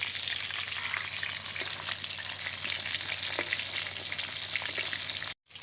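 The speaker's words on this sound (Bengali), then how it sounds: "মাছটা ভালোভাবে ভাজা হয়ে গেছে, তুলে নেব।" A large fish fries in a pan of hot oil with a dense, steady sizzle and crackle, with scattered pops spattering over the constant hiss, before a brief drop-out near the end.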